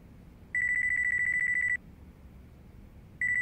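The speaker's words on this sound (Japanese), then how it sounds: "俺の電話だ。" A mobile phone rings in the video game Yakuza 5, a bright electronic trill held for over a second, then a pause before the next ring starts, loud and clear over a quiet room.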